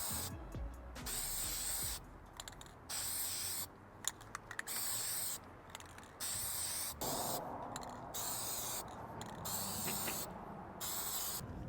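Plasti Dip aerosol spraying a second coat onto car emblems in repeated hissing bursts of one to two seconds, separated by short pauses, fairly close and steady.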